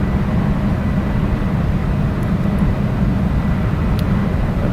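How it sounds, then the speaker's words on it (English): A small airplane descends toward landing at night, its cockpit filled with a loud, steady engine roar and rushing wind, unbroken for several seconds with no speech. "I guess you guys saw the airplane coming in"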